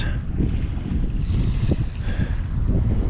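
Strong wind buffets the microphone while waves slosh and churn on Lake Mead near Boulder Beach, a loud, relentless roar with no talking.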